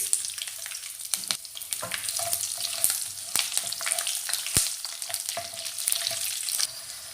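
Curry leaves and green chilies frying in oil over a low flame: an even, close crackling sizzle with sharp pops and spits scattered throughout, and no one talking.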